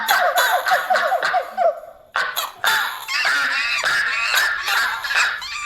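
Comic animal sound effect of duck-like honking, loud rapid quacks and honks in a dense chattering stream with a brief pause midway, mingled with giggling cries.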